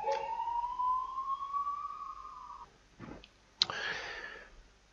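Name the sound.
police siren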